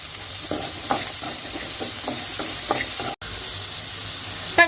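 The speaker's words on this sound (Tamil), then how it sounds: "வதங்கிறதுக்கு உப்பு சேர்த்து வதக்கிக்கிங்க" Salted ingredients are sautéed in a pan for a milk shark fish curry, giving a steady low sizzle with regular scraping stir strokes throughout and a brief drop out near the end.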